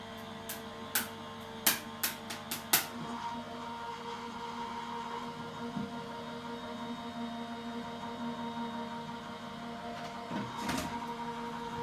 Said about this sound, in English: we're going to run that through our die cutting machine